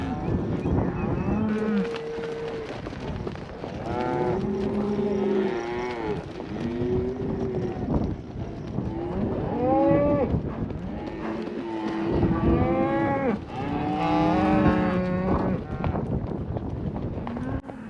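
A large cattle herd moos repeatedly and overlapping, loud and near with some calls farther off, during a drive up to the mountain, with steady movement noise underneath throughout.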